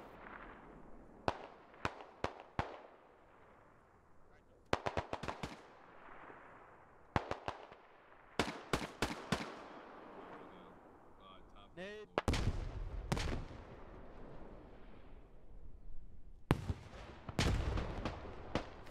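Grenade blasts and gunfire in the tactical shooter game Squad, made up of sharp cracks and booming explosions in scattered clusters, some near and loud and others more distant, with short quiet gaps between bursts.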